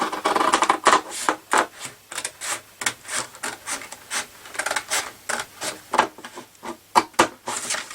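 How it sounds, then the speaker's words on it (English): Scissors cutting scrapbook paper for a mini file-folder album, a quick run of crisp snipping and rasping strokes, close and alone without talk. "at this stage I find this is easier with the scissors"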